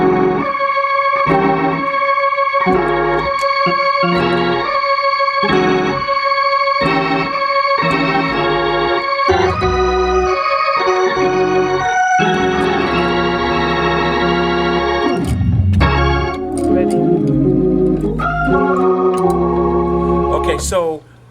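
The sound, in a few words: Hammond organ holding the root note under a preacher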